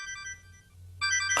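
A mobile phone ringtone for an incoming call plays as a steady tonal melody, drops away briefly, then returns louder and brighter toward the end, with a low hum underneath and no talking.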